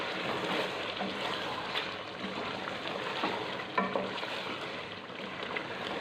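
Spice mix with turmeric, dry coriander powder and lemon juice being stirred in a cooking pot for chicken biryani, a steady soft sizzle and scraping hiss throughout with an occasional clink of the spoon.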